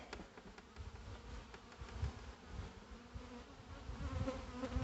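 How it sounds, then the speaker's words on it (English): Many honey bees buzz in a steady, low hum at a hive with hive beetles, a close swarm drone with occasional louder passes. "The bees are chasing out"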